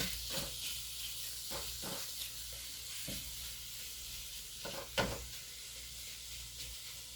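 Ground meat browning in a pan for lasagna, a continuous soft sizzle and hiss broken by scattered clicks and scrapes of a utensil stirring, fairly quiet and with no talking.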